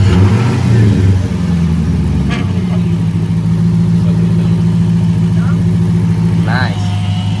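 A Chrysler 300 Hemi V8 with a newly installed power steering pump cranks and fires up, then settles into a steady low running hum while people talk close by.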